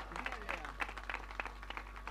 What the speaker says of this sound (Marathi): या टाळ्यांचा आवाज मात्र माथेरान संघाच्या स्कॉडमधून कडकडकडाडल्या टाळ्या